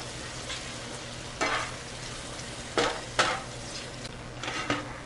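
Yogurt stirred into cooked onions and spices in a pan for egg biryani: a soft steady sizzle broken by several sharp scraping strokes of the spoon, close up, with no one speaking.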